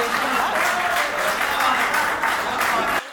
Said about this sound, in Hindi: भाई साहब क्या ताली बजा रहे हैं